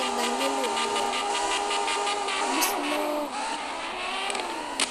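A Tofaş car accelerates from a standstill with a steady, loud engine drone and rising revs, heard close throughout with a brief gear change midway.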